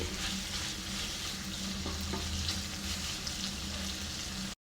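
Chicken liver sautés in a pan for a Kerala-style liver fry, giving a steady close-up sizzle with a few soft stirring scrapes throughout.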